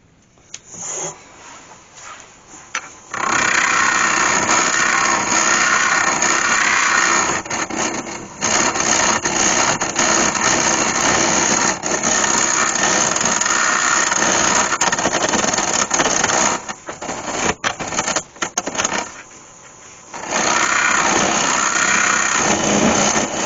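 A wood lathe hollows a beech crotch hollow form with a hollowing tool, giving a loud steady rasping, scraping cut over a motor hum that stops and restarts several times.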